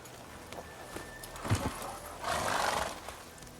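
Horse in The Witcher 3 game with hooves clopping and a brief neigh or snort, heard near amid soft ambient game sound.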